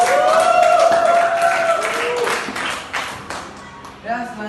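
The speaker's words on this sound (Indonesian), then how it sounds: "Kita tepuk tangan untuk kita semua." A classroom of students clapping together, loud and close, with a brisk burst of claps in the first seconds that thins out toward the end while voices talk over it.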